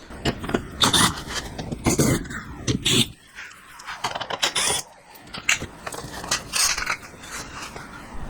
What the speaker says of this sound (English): So all we gotta do is remove 4 of these 10mm screws, and then we will have access to the drain and fill plug on the transfer case.